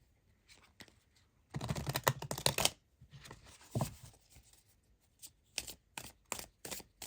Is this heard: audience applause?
no